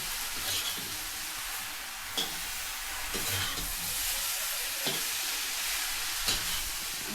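Vegetables frying in an iron pan on a village stove, with a steady close sizzle and several soft scrapes of a stirring spatula.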